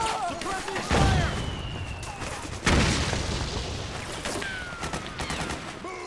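Suppressing gunfire in the video game Metal Gear Solid 4: loud, booming bursts of shots and blasts, two heavy impacts standing out, with shouted voices over the battle.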